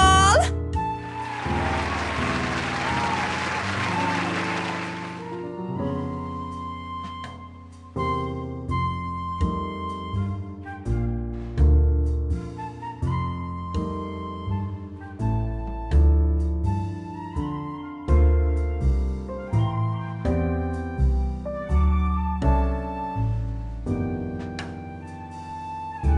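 A roughly five-second burst of crowd applause in the horror visual novel game The Letter, a dense hiss of clapping that cuts off abruptly as a steady plucked folk-style tune begins and plays on.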